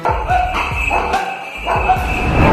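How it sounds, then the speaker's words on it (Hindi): Two dogs bark and yip rapidly while attacking a tied horse, with close, loud, overlapping barks in a busy, noisy outdoor mix. "अब ये दो कुत्ते एक बंधे हुए घोड़े पर अचानक हमला कर देते हैं"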